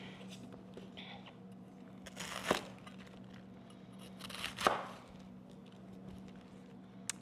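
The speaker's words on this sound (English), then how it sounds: "So we're gonna go ahead and cut that bad boy out." A knife cuts the tough woody core out of a head of cabbage, making two crisp crunching snaps a couple of seconds apart over a quiet room hum.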